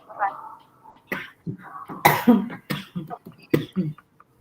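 A person nearby gives several short, harsh coughs and throat-clearing bursts, spaced irregularly and mixed with bits of voice.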